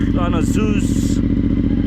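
Idling CF Moto 450 MT motorcycle fitted with a Zeus Performance aftermarket exhaust, a steady close low throb running throughout while someone talks over it.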